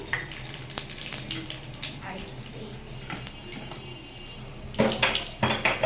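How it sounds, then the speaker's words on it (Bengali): Nigella seeds sizzling in hot oil for a Bengali potato and chapila fish dish, a steady fry hiss broken by sharp clinks of a metal spoon against the pan, with louder scraping bursts toward the end. "দেখুন তেল গরম হয়ে গেছে, আমি কালো জিরা ফোড়ন দিয়ে নিলাম।"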